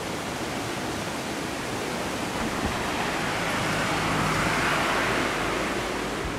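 Continuous broad rushing of sea water, a loud steady roar like surf churning below a hotel at Haiki, Nagasaki, unbroken and without voices.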